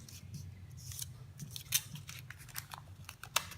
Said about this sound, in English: So I'll follow this shape, trim it inwards